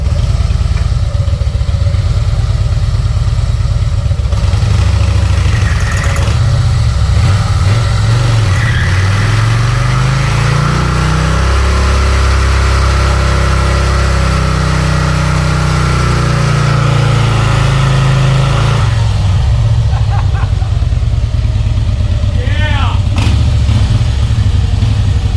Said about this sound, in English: He's going to let us try a burnout in apparently Harley's futuristic motorcycle